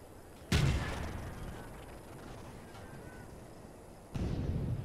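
Tank cannon fire in the Toy Soldiers video game, two heavy booming shots a few seconds apart, each followed by a lingering rumble.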